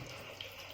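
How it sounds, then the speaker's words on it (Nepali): Tap water running into bottles at a canteen, a faint steady rushing stream heard briefly and quietly. "क्याम्परमा पानी भर्दै बोतलमा पानी भर्दै लाँदैछु क्यान्टिनबाट।"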